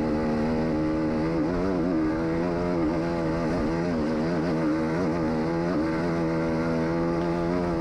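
An enduro dirt bike rides an easy transfer section through a sand wash between tests, its engine droning steadily and close with small rises and dips in revs throughout, no voices.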